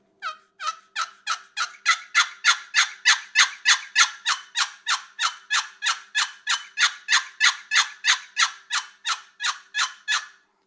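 A turkey box call yelps in a long, rapid run of sharp, evenly spaced notes, loud and close, with no talking.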